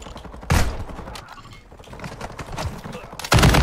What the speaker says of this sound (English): I'm gonna grenade launch all these guys, whatever